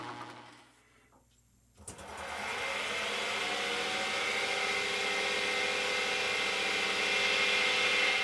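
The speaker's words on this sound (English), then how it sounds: "I'm drilling pilot holes in the ends here" After a quiet moment, a power drill spins up and runs steadily drilling pilot holes into the ends of dry wood, a sustained whirring hum.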